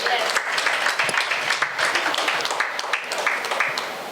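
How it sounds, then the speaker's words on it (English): Steady applause from an audience at a talk event in India, dense clapping sustained throughout at an even level, with faint voices mixed underneath. "for that we can have a round of applause for him"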